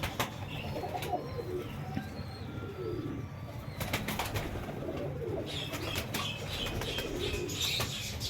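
A pigeon being handled, shifting and flapping its wings in a few short bursts close by, with soft coos and chirps and light rustling in between.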